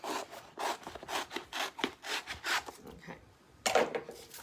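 Scissors or a blade cut through stencil sheets in quick, repeated rasping strokes, close up and moderately loud, with a short pause before a final burst.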